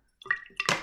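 Water poured into a measuring cylinder for a soil sedimentation test, a brief close splash and gurgle of liquid that builds into a fuller rushing pour.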